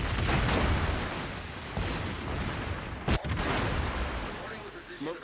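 Naval artillery in World of Warships, fired from a tier 6 heavy cruiser: a dense, booming barrage that rolls on steadily, with one sharp loud blast standing out midway.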